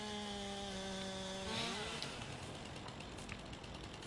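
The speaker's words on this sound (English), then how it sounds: "I'm going to cut some of these with a chainsaw." Chainsaw cutting trees in the Farming Simulator 19 video game, a steady buzzing whine that revs and then settles into a rough, grinding drone, moderately quiet throughout.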